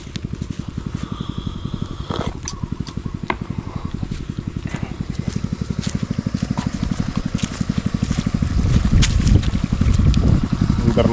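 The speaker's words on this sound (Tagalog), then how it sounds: "Nandar na natin tong makina." An irrigation water pump engine runs at close range with a steady, rapid low chugging that grows louder and rougher toward the end, with wind buffeting the microphone.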